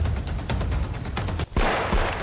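Diwali fireworks go off at the Rajasthan border in a rapid, loud string of sharp cracking bursts, one after another, with a brief gap before another close blast.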